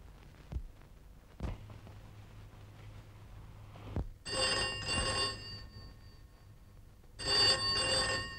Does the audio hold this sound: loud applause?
no